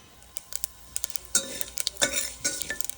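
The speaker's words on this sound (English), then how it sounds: "You can hear the mustard seeds flutter, and jeera has also fried well." Mustard seeds and cumin (jeera) frying in hot oil for mango dal: crackling sizzle with rapid irregular pops and spatters, some louder bursts of hissing, close and fairly quiet.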